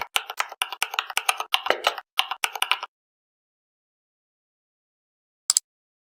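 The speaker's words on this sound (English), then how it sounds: "In the search bar, type Monitorian and hit Enter." Close, quick keystrokes on a computer keyboard as a search term is typed, a rapid run of clicks for about three seconds, then silence and one final double tap like hitting Enter.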